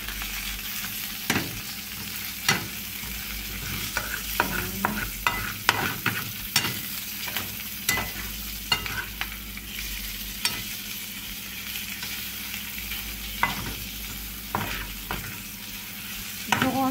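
Liver adobo fries in a pan with soy sauce, a constant sizzle broken by repeated sharp spatula scrapes and clatters at an uneven pace, close and clear with no voices.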